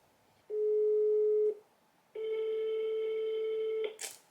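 A telephone tone sounds twice, a one-second steady beep, a pause, then a longer tone, ending in a short burst of noise.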